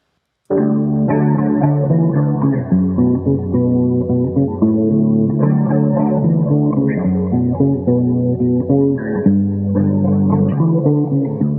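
Three layered guitar parts, low, middle and high, playing together in a Mk.gee-style arrangement: a full, loud, effects-heavy chordal mix with a distorted edge and light echo, sustained and steady throughout, with no talk.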